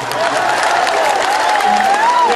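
A crowd claps steadily in sustained applause at a live music concert in Qatar, dense and fairly loud, with a faint tonal hum running underneath.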